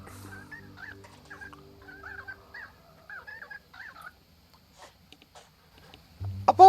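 A video-game bird calls in a string of short honking, gobble-like notes for about four seconds, fairly quiet over a faint low hum, then a louder burst at the end.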